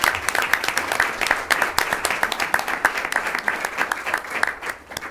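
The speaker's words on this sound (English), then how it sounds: "also a round of applause for Shalini and Ruthika for their campaign." An audience at a school committee meeting gives a dense, continuous round of applause, many hands clapping at once at moderate volume before tapering slightly at the end.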